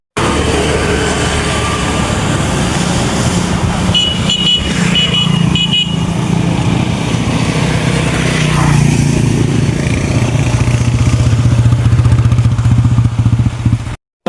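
A motorcycle on a test ride runs steadily and loudly close by, with a continuous engine drone, rattling clatter and a brief horn-like tone partway through.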